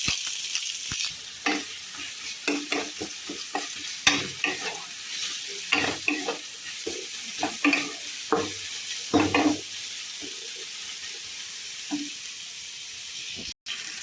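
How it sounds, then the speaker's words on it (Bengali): Onion frying in oil in a wok, with steady sizzling and repeated stirring scrapes and clatters at close range, no voices. "তো এই যে পেঁয়াজটা ভাজা ভাজা হয়ে গেছে"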